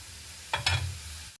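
Onions frying in a pan give a brief, steady low sizzle with two quick scraping touches near the middle, then stop abruptly.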